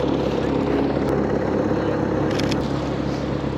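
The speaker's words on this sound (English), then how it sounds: "What are the odds I get 2 airplanes?" An airplane passing overhead near a photo shoot of two stanced Nissan 350Z cars, a loud, steady broadband roar that fills the whole clip.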